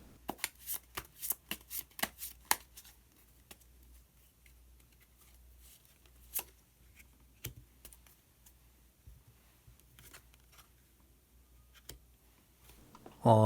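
Quick crisp riffles and flicks of tarot cards being shuffled and drawn, a burst of rapid snaps early on, then sparse single card slides and taps in a quiet room.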